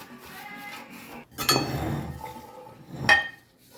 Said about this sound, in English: My daughter is greasing loaf pans with butter.